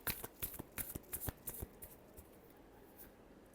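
Tarot cards shuffled by hand, a quick run of soft crisp riffles and taps close to the mic over about two seconds, then fading into quiet.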